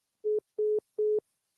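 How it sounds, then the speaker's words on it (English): A telephone line tone after a dropped call sounds three short, identical beeps at an even rhythm with silent gaps between them, clear and alone with no voices. "Ooh, my phone cut off"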